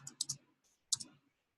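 Mouse clicks on a save button: a quick triple burst of sharp clicks, then a pause and a second pair of clicks, close and crisp, with no talking.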